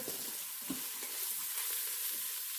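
Mushrooms sizzle steadily in a hot pan while a spoon stirs them, a close hiss with soft scraping thuds.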